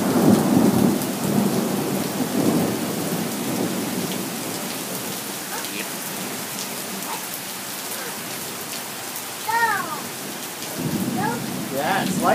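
Thunderstorm at night with steady rain and rumbling thunder, a heavy roll at the start and again near the end, while faint chirping or bird calls rise over the downpour.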